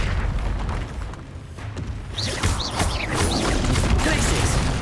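A fire spell, Incendio, cast repeatedly during Hogwarts Legacy gameplay, with booming bursts and crackling whooshes over a dense, continuous game soundscape.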